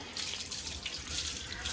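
Water running steadily from a tap to bathe a dog, a continuous close hiss and splash with no talk over it.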